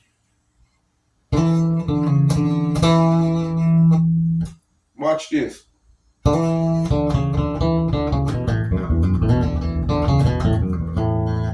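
Bright, tight electric guitar notes and chords on the bridge pickup ring out, with a short spoken interruption midway before playing resumes.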